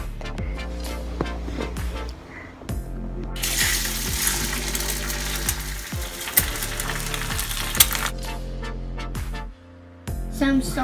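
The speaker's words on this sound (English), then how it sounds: "Add some butter. Crack the egg into the pan." An egg fries in butter in a hot pan, giving a loud, close sizzle that swells into a dense crackling hiss midway, accompanied by scattered knocks and clinks of the pan.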